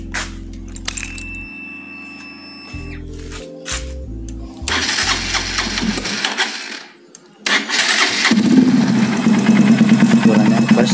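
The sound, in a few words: Honda Verza 150 motorcycle idling with Yoshimura exhaust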